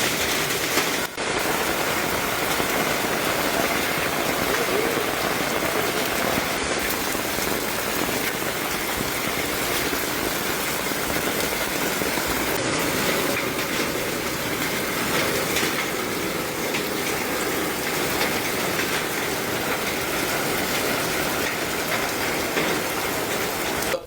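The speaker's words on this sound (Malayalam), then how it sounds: "ഇടുക്കിയിലെ ദേവികുളത്താണ് മഴയ്ക്കൊപ്പം ആലിപ്പഴ വർഷവും ഉണ്ടായത്." Hail and rain fall steadily on surfaces in Devikulam, Idukki, a dense continuous patter and rattle with scattered sharper hits, no voices.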